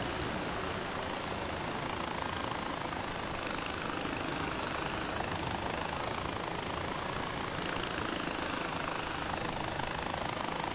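A helicopter flies in the video game Far Cry 4 with a dense, unbroken rotor and engine roar that stays loud and steady throughout.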